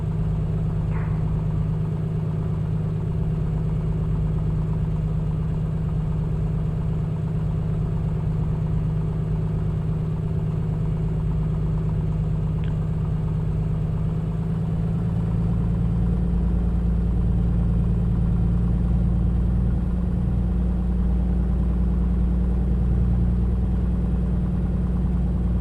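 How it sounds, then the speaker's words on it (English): A Piper Comanche 250 engine idles steadily during warm-up in Microsoft Flight Simulator, a loud, continuous low rumble with no voices. "Go ahead and let the engine warm up here."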